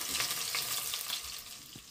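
Chopped onions fry in hot oil in a pan, a continuous hiss of sizzling with soft crackles and a few stirring scrapes, close and steady with no voices.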